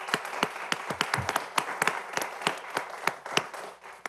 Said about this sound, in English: I think y'all need a round of applause first.